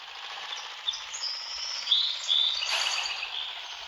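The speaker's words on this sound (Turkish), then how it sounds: "Evet kuş sesleri de neredeyse uykumuzu getirecek." Birds chirp and tweet in a driving game set on Brazilian roads, bright high calls repeating in short bursts over a faint, steady background hiss, fairly quiet and without any talking.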